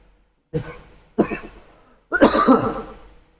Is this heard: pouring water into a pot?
no